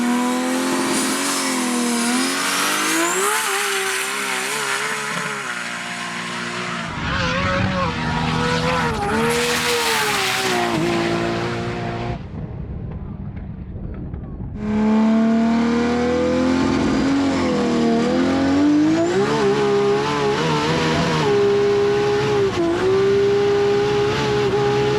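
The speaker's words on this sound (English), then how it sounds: "actually bogged down a little on the start line before the car came on strong and had some wheel spin" A 2000hp Nissan GT-R launches hard down a runway, its engine roaring loud and near with turbo surges, a brief dip and wheel spin before it pulls strongly away at high revs.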